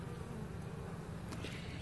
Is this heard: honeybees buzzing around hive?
yes